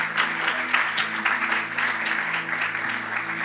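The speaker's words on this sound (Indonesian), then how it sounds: "Tepuk tangan yang paling meriah untuk Tuhan Yesus." Church congregation claps enthusiastically during an Indonesian-language sermon, a lively, close wash of many hands with individual claps standing out, and a soft sustained tone underneath.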